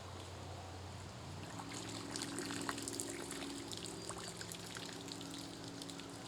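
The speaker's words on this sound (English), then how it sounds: "you can try to rinse some of the mud out." Water sloshing and trickling around a pond net as mud is rinsed out at the pond's edge, a steady close wash of splashes and dribbles with no talk.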